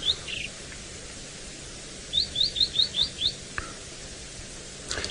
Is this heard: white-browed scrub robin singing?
yes